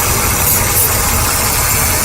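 A Ford Taurus engine idling steadily under the hood during vacuum-leak troubleshooting, a continuous close mechanical hum and rumble with no talk over it.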